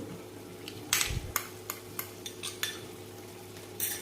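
Coconut and sesame paste is stirred into a mutton curry. Repeated scraping clinks of a spoon against the pot come at an irregular rhythm over a low, steady background hum, moderately close and fairly quiet.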